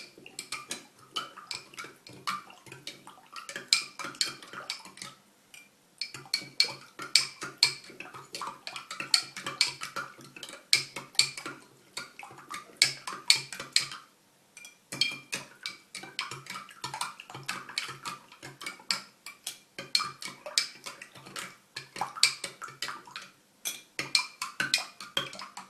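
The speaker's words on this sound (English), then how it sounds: "I'm going to mix it up until the water and sugar start to come together" Spoon stirring water and sugar in a container until the sugar dissolves, a long steady patter of fast light clinks and scrapes broken by a few brief pauses.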